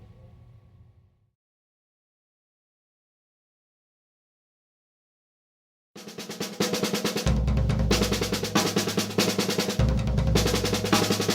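After a short sound and several seconds of silence, a loud, fast, even one-handed drum roll in sixteenth-note triplets starts and keeps going steadily.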